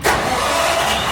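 A hay dryer engine revs up out of idle into a steady, loud, close mechanical roar that holds throughout the short stretch.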